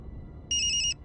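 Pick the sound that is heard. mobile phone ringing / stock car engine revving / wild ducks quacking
mobile phone ringing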